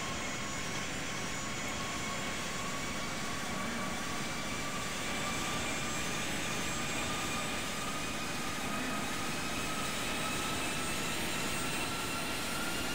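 Airliner jet engines roar during takeoff in the Infinite Flight flight simulator, a steady, loud, continuous rumble with a rising whine that holds for the whole stretch.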